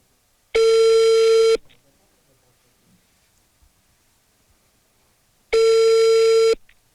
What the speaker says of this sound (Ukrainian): Телефонні дзвінки скидалися відразу після того, як чули, що до них телефонують журналісти